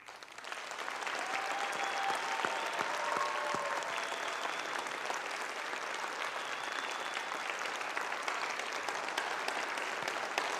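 Sustained applause from an audience at a high school marching band showcase, steady dense clapping throughout with a faint murmur of the crowd underneath.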